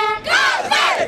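Football supporters in the stands at Dagao stadium during a cup match raise a loud, sustained crowd roar with yelling, swelling in two surges over about a second.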